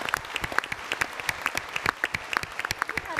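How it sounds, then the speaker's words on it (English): An audience at a party leadership debate in a theatre claps steadily, with distinct individual hand claps close by in a lively, continuous round of applause. "I think give them a round of applause too."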